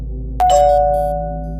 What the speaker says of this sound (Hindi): एक दिन अचानक उसके घर की घंटी बजी